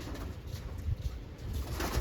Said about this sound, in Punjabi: ਦੋ ਕਬੂਤਰੀਆਂ ਹੋਰ ਛੱਡ ਦਿੰਨੇ ਆ ਬਾਈ